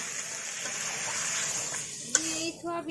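A little water poured into a pan of fried soybean chunks, heard as a steady close pouring rush that ends with a sharp clink and a brief hiss.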